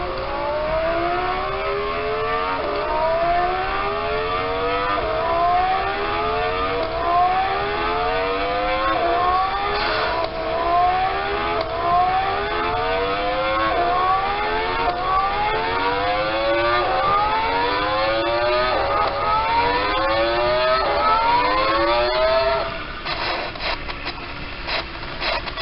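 A car on a highway track accelerates again and again, its engine pitch climbing in a regular series of rising sweeps. The sound stays steady and fairly loud until it drops away near the end.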